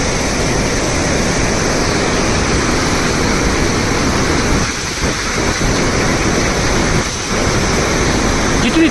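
Montmorency Falls in Quebec, Canada, pours down with a dense, steady roar of falling water and rising spray, loud and close throughout, with a few brief dips in the rushing noise.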